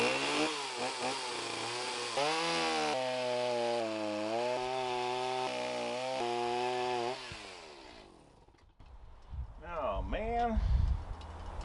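A chainsaw roars close and loud, its engine pitch rising and falling as it cuts about two feet off the end of a crusty log that is rotten in the center, then idles down before revving again.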